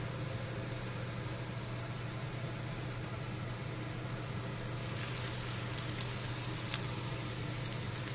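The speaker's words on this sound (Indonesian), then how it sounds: "kalau minyaknya sudah panas, kita mulai goreng satu persatu" Shihlin-style chicken fries in hot oil with a steady, even sizzle and faint crackles, growing a little brighter toward the end, with no talking.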